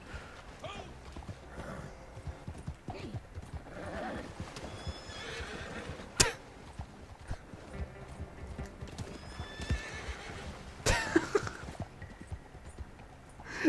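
A video-game horse whinnies and neighs while hooves clip-clop steadily, with sharp impact sounds as it tramples small creatures such as beavers; a voice talks intermittently over the action.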